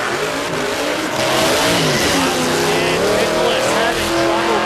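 A big Dodge Coronet drag car on small tyres launches at a no-prep drag strip, its engine roaring loud and continuous with rising revs as the tyres spin, with commentary faintly underneath.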